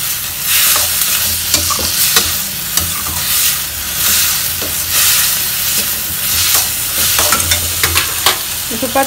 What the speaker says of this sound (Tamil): இப்போ தக்காளி போட்டு நல்லா வதக்கி எடுத்துக்கலாம்